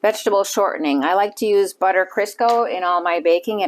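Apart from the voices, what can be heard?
None of the usual background noises is heard.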